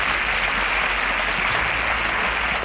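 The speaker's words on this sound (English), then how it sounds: "A round of applause for Marvel." A studio audience at a televised Nigerian quiz show bursts into dense, steady applause, loud and continuous throughout.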